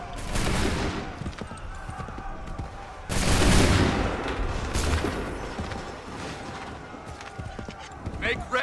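In the Bunker Hill battle of Assassin's Creed 3 Remastered, a massed musket volley erupts as a loud crackling burst midway, over a continuous din of battle noise and shouting voices.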